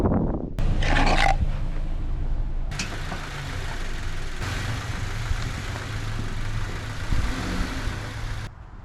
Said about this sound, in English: it's time to take the vehicle off the ramps